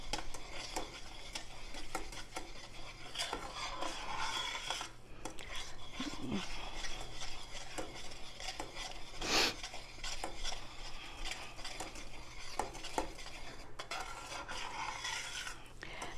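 Old English toffee being stirred in a pan, a soft steady scraping and rubbing of spoon against the pan running throughout at close range, with no talk.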